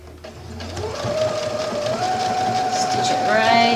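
Sewing machine running a stretch stitch along a tank top, a steady loud whirring hum with a rising mechanical tone near the end, while a person talks over it.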